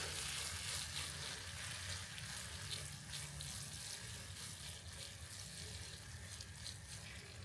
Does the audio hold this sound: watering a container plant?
yes